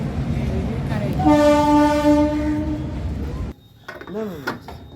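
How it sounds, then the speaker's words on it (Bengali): A loud, sustained horn from an approaching train blares over rumbling rail noise, then cuts off, leaving quieter rumble and a brief rising squeal. "ওই যে ট্রেন আসছে দেখো ওই যে ট্রেন"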